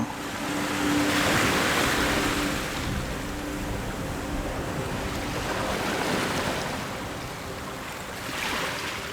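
Sea waves washing onto the north beach of Saint Martin Island at the start of high tide, a continuous surf roar swelling and easing in slow surges, with wind noise on the microphone.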